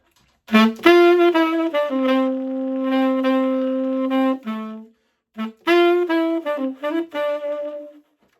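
A tenor saxophone plays two short melodic phrases from a song, with a long sustained note in the middle and a brief pause between them, solo and fairly close.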